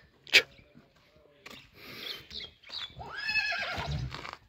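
Foal of a mare-and-foal pair for sale, giving a sharp brief whinny near the start, followed by louder snorting and rustling animal sounds close by.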